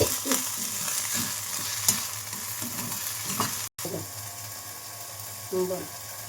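Drumstick leaves fry with onions in a pan, a continuous sizzle with rhythmic spatula scrapes and clatter, briefly cutting out midway before resuming, close and with no voices.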